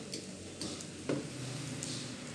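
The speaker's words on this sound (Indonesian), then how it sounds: "misalnya kita aduk-aduk dulu ini supaya mata apinya terlalu besar, kecil dikit, aduk gini ya" Indomie fried noodles, the new ayam pop flavour, stirred in a pan over the stove, soft scraping and light clinks with a faint sizzle underneath, close and fairly quiet.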